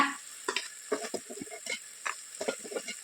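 Egg masala for egg mandi biryani stirred in a pan, a faint soft sizzle under a series of irregular scraping and tapping spoon strokes, close and quiet, with no speech.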